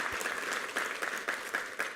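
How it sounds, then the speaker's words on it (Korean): Steady applause from a church congregation during a Sunday worship service, a continuous patter of many hands at moderate distance with faint rhythmic peaks. "우리 하나님께 감사와 영광의 박수 올려드리겠습니다."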